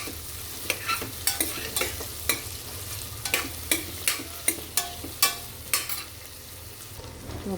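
Potatoes and tomato stirred in a hot pan, a low sizzle under a brisk run of sharp spatula scrapes and knocks against the metal, close and without speech.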